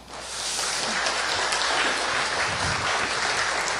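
Steady, even applause from a church congregation at a Sunday evening service after a sermon, a broad wash of clapping that swells in quickly and holds at a moderate level.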